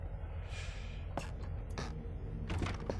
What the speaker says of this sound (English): Why not open the door?